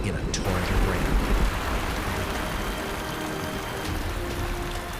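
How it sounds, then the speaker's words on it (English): Heavy thunderstorm rain pours across the Serengeti grasslands as a dense, steady roar of downpour, loud and close throughout with a slight swell near the start. "they grow into massive thunderclouds until they burst in a torrent of rain"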